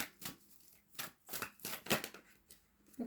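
Tarot cards shuffled and drawn by hand, a run of quick, crisp papery riffles and slaps in uneven bursts, close and fairly quiet, with no voices.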